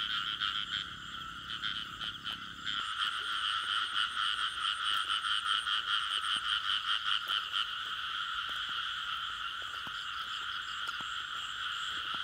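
A dense chorus of frogs croaks at night in a field, with steady pulsing calls that swell partway through and continue loud and unbroken, with no voices.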